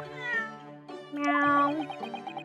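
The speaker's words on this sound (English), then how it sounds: "Oh, it's the cat." A cat meows in the video game The Great Ace Attorney Chronicles: a couple of clear, close, tuneful meows in quick succession, the second drawn out and bending in pitch, with no talk over them.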